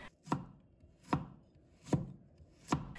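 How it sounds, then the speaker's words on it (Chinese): A knife chops peeled ginger into shreds on a board: four crisp, evenly spaced, close strikes, fairly quiet and with no talking. "然后再改刀切成姜丝。"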